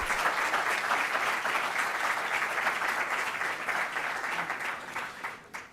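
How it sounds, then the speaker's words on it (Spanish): Sustained audience applause fills an auditorium at a university faculty talk with Olympic athletes, a dense even wash of clapping that holds steady and begins to thin near the end. "gran aplauso también para Esteban"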